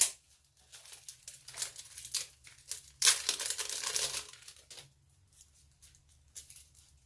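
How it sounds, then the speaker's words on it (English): Parcel packaging being torn open by hand, close and fairly faint, with a run of crinkling rips and rustles, one sharper tearing burst partway through, then quieter fumbling near the end. "So I'm just going to tear it up."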